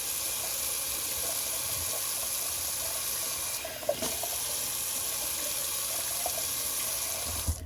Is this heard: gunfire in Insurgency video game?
no